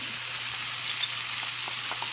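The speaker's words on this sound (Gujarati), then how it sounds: "પછી એની અંદર આપણે નાખશું થોડુંક સોય સોસ" Soy sauce sizzling in hot sesame oil in a pan, a steady hiss with a few soft crackles and no talk.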